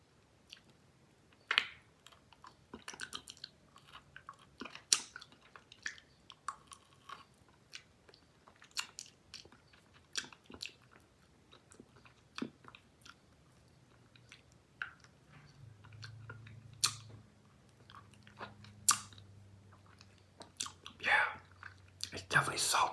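A Taiwanese dried plum lollipop candy, seasoned with salt, being eaten up close: soft crunches, bites and wet chewing clicks come in scattered bursts, with faint whispering in places.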